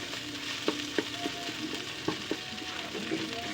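String beans sautéed with canned ground meat stirred in a pan, a constant close sizzle with several sharp spoon clacks against the pan at irregular intervals, no talking.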